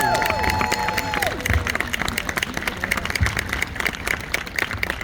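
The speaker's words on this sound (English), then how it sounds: "Can we get a round of applause?" Crowd claps and cheers at a Korean traditional wedding show during a Korean festival in Columbia, South Carolina, a rattling spread of hand claps continuing throughout, with some tonal sounds fading early on.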